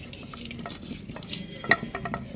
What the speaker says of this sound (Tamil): சிக்கனை நிறையா அள்ளி போட்டுக்கணும். நல்லா கிண்டணும்.